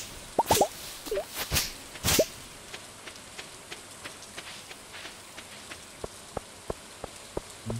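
Green rain falling in Stardew Valley, scattered drips and plops that grow more regular toward the end, mixed with a few louder bursts and swishes early on, all fairly quiet.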